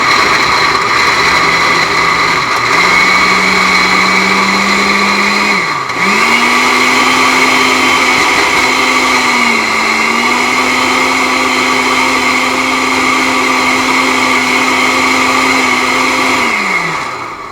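Blender motor whirring steadily on high speed through ingredients, a loud close whine that shifts pitch slightly as chunks catch and then settles into a sustained drone until it winds down near the end.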